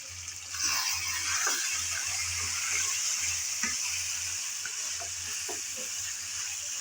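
Chicken sizzles as it is fried in a pan and stirred repeatedly, with a steady hiss of hot oil punctuated by scraping, clattering stirs, close and moderately loud with no talking.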